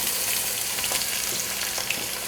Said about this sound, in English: Then once the oil is warm, you can fill it. Then you put